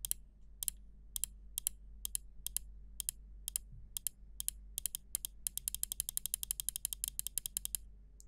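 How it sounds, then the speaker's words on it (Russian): Left button of a Logitech G403 Hero gaming mouse clicked repeatedly, sharp close clicks spaced out at first, then coming in quicker runs, alone over a low steady hum. "Сейчас будем тестировать звук от левой кнопки мышки."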